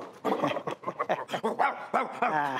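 A pet dog in a family home gives a quick run of close, loud yips and barks with whimpering and panting mixed in, busy and continuous throughout.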